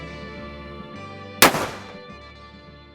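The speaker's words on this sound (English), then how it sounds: "You fan the hammer back, let go, and the bullet comes out." Revolver fired by fanning the hammer, one sharp loud crack standing out against a quiet background, with a short ringing decay afterward.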